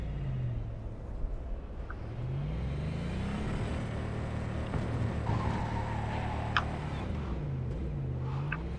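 A car driving off-road in Cyberpunk 2077 gives a steady engine drone that rises and falls with gear changes and revs, plus a few faint clicks and bumps over rough ground.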